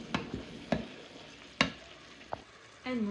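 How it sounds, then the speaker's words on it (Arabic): Chicken browns in a pan for Moroccan seffa with couscous, a faint steady sizzle broken by several sharp clicks and scrapes of a stirring utensil close by. "المهم الدجاج ديالي صافي كما كتشوفوا تشحر"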